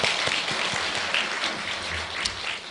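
A church congregation claps in encouragement for its choir after a dedication service, a full, fairly close burst of applause with distinct individual claps standing out, sustained for nearly three seconds.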